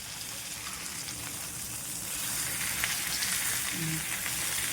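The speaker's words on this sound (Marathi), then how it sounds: "एका बाजूने चांगलं फ्राय करून घ्यायचं. नंतर दुसऱ्या बाजूने आपण फ्राय करतो ना" Tilapia fish fry in a hot pan, a continuous crackling sizzle that swells slightly louder midway, with a few faint utensil touches and no talking.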